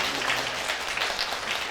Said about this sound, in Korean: 더 큰 박수 부탁드리겠습니다.